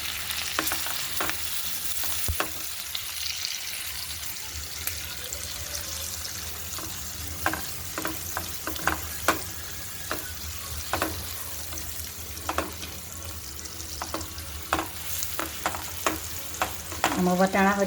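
Carrots frying and being stirred in a pan over medium heat for vegetable masala rice: a steady close sizzle with repeated scraping clicks from the spoon, quickening into rapid stirring at the end.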